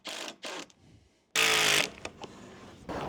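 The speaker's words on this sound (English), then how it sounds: "Now I'm just going to finish up with these 70mm screws on the thinner part." Cordless driver sinking 70mm screws into a wooden gate, short whirring bursts with pauses between, then a longer, louder run as a screw drives home, close by.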